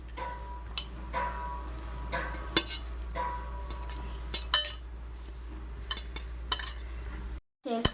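A spoon mixes chili powder, fenugreek powder and oil into a masala for fish, making intermittent scraping and light clinks against a bowl, close and fairly quiet, with a brief cutout near the end.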